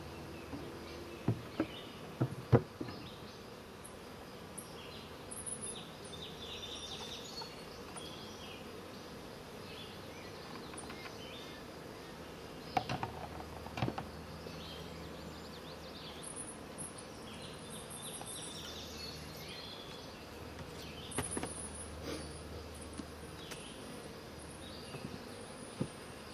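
A strong honeybee hive, during its first inspection after package installation, hums with a soft, steady buzz, heard up close and fairly faint, broken by a few scattered knocks and light handling sounds.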